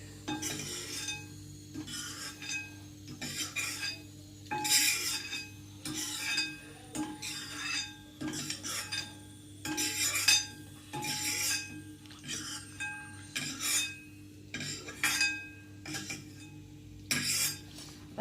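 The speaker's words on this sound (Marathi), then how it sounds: "आता चांगलं 2 मिनटं शिजलं परतून घ्या." Khapli wheat semolina roasting in a pan, stirred with a spoon that scrapes and clinks against the metal in steady repeated strokes, close and fairly quiet over a soft background hum.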